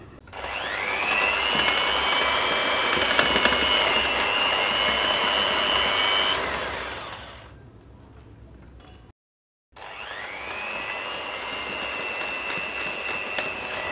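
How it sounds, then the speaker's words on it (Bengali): An electric hand mixer beats cake batter as powdered sugar is added little by little, a steady loud motor whine that fades down briefly, cuts off, then resumes at full strength. "এই গুঁড়া চিনিটা অল্প অল্প করে দিব আর বিট করব"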